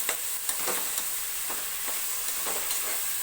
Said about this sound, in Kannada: ಇವಾಗ ಇದಕ್ಕೆ ನಾನು ಟೊಮೊಟೊ ಹಾಕೋತಾ ಇದ್ದೀನಿ ಫ್ರೆಂಡ್ಸ್ ಇದನ್ನು ಕೂಡ ಒಗ್ಗರಣೆಗೆ ಚೆನ್ನಾಗಿ ಬೇಯಿಸ್ಕೋಬೇಕು